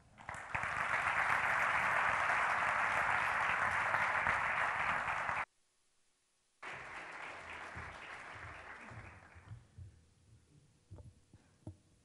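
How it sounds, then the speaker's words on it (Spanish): A crowd applauds steadily and loudly at a tenth-anniversary event of the Motril Chamber of Commerce club, stops abruptly, then resumes more lightly and fades into scattered claps and murmurs. "Recibamos con un aplauso a don Julio Rodríguez Martín Feriche."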